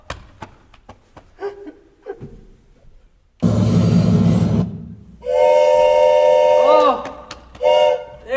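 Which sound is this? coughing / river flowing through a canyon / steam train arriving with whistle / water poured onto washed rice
steam train arriving with whistle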